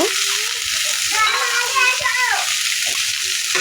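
Banana peel pieces with salt and turmeric being stirred in a frying pan, a steady close sizzle with scraping and stirring sounds throughout, and a voice speaking faintly underneath.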